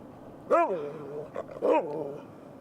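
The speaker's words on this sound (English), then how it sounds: "This is a husky throwing a tantrum." A husky throwing a tantrum gives two loud, drawn-out growling barks with a whining, howl-like pitch, close by outdoors, separated by a short pause.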